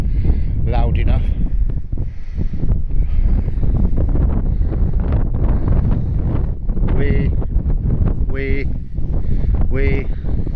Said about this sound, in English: I'm not sure how much of my audio you're catching in all this wind. It's absolutely blowing it up here.